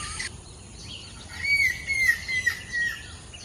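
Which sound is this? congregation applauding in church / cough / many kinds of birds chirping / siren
many kinds of birds chirping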